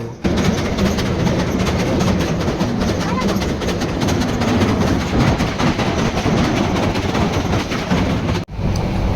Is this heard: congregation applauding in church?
no